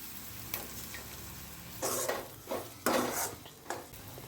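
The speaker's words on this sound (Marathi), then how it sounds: "अंडी टाकूया" Eggs dropped into a pan with masala and other ingredients for Marathi-style egg rice, stirred with a few scraping, sizzling bursts between quieter frying.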